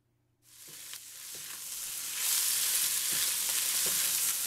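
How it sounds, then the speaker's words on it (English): Mushrooms and other ingredients for turnip cake sizzle and fry in a pan, with a few scraping stirs of a utensil; the frying hiss starts abruptly and grows louder and steadier partway through, close and continuous with no talk. "It's time for me to add the mushroom and mix it well."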